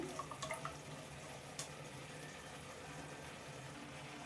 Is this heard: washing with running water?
yes